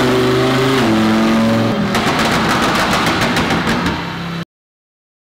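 A catless, supercharged Lamborghini Huracan Performante revs hard on a dyno, rising in pitch through gear changes into a loud, harsh roar with rapid crackling bursts near the end before cutting off abruptly.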